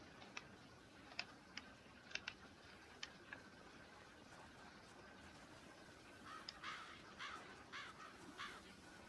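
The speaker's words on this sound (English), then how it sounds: "Don't like the crow sounds." Crows cawing in the survival video game Project Zomboid, a string of short, faint caws spaced irregularly, then a quicker cluster of calls near the end over a quiet background.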